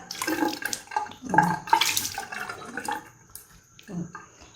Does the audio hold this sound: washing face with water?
yes